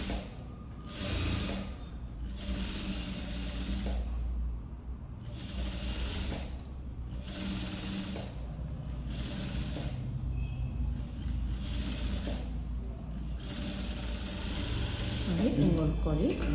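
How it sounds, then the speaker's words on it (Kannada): A sewing machine stitching a princess-cut blouse with a boat neck, its fast mechanical whir running in repeated bursts with short pauses, close and steady, while someone talks over it. "ಹಿಂಗೆ ಹೊಲ್ಕೊಳ್ಳಿ."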